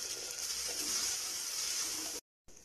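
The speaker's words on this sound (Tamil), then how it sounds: "நல்லா மிக்ஸ் பண்ணி விட்டுட்டு கொஞ்ச நேரம் நல்லா வதங்கட்டும்" Eggplant and potato masala with tomato fries in oil in a pan, a steady hissing sizzle heard close and alone, cut briefly by a short silence near the end.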